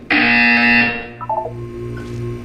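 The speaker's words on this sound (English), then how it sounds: "You will hear a buzzer." A loud electronic buzzer tone from the video game Portal 2 blares steadily for about a second, then fades into a quieter ambient hum with a few brief electronic blips.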